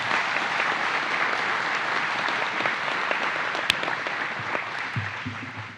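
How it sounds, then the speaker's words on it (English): Sustained applause from an audience at NASA Marshall's 2022 agency honor awards ceremony, a dense, even wash of clapping lasting several seconds with a few louder claps standing out. "Please give a round of applause to the awardees in that category"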